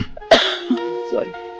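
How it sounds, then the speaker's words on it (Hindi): A woman coughs in a short harsh burst amid voiced sounds and brief vocal noises, close and fairly loud. "ये जो आप इतना खांस रही हैं"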